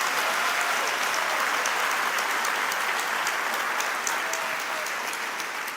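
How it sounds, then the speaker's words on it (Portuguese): A church congregation breaks into sustained applause, a dense, even wash of many clapping hands filling the room at steady loudness, with no speech. "Você pode aplaudir o nome de Jesus?"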